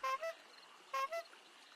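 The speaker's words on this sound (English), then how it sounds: "If I hold the button, it honks the horn." A minibike horn in the survival video game 7 Days to Die gives two short double honks, beep-beep, a pause, then beep-beep again, over a low hiss of game ambience.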